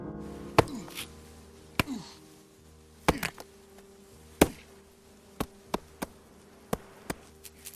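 A coconut is cracked open with a stone in a film, heard as a series of sharp, isolated knocks, some louder and some softer, spaced irregularly over faint outdoor background.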